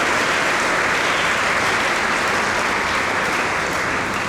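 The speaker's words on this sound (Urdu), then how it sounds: "تو ہم تمام ماؤں کو اور تمام نرسز کو بھی زوردار تالیوں میں مبارکباد پیش کرتے ہیں۔" A church congregation gives mothers and nurses a loud, dense round of applause, steady and sustained clapping from many hands filling the hall throughout.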